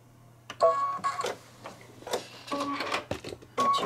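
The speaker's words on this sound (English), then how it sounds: "I'm going to go ahead and stitch this for the pom-pom and the hat band" An embroidery machine stitches a pom-pom and hat band on a Santa table runner, its rapid mechanical needle chatter steady and close, with louder bursts and brief pitched whirs as it moves, no talk over it.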